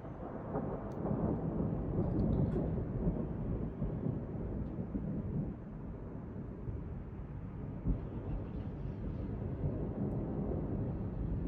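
Thunder rolls through a thunderstorm with lightning nearby. It is a long, steady rumble that swells and eases, with no talking.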